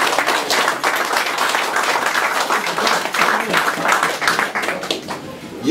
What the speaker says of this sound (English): Let's have a round of applause for Alan here